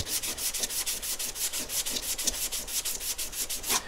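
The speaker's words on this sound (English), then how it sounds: "this is going to be much more aggressive than the other sandpaper that I was using" Coarse sandpaper rubs along a steel chisel in steady back-and-forth strokes, about four passes a second, each a close, gritty rasp with no voices.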